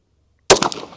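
A single sharp, loud Glock pistol shot with a 6-inch barrel and long slide, fired while chronographing hunting reloads. It breaks the silence abruptly and leaves a short decaying echo.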